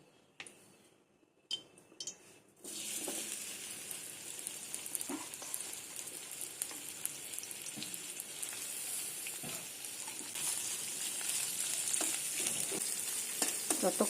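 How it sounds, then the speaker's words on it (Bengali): Chopped onions hit hot white oil in a wok and burst into a loud, steady sizzle after a few quiet seconds and light clinks, with occasional scrapes of stirring under the continuous frying hiss. "সাদা তেল দিয়ে প্রথমেই দিয়ে দেবো পেঁয়াজ কুচিটা।"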